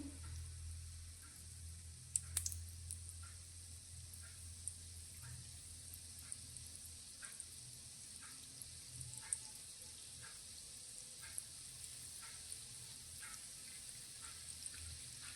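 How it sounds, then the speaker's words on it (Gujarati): Methi gota, fenugreek fritters, deep-frying in hot oil, a soft continuous sizzle with small bubbling pops scattered throughout, faint and steady, with a brief clink near the start. "તો આ રીતે તેની જાતે જ તળાઈ અને અવળા સવળા થાય ત્યાં સુધી તેને આપણે તળાવવા દેવાના છે"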